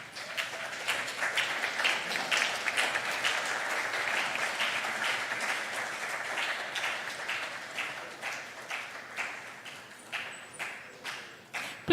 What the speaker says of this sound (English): Please continue with applause.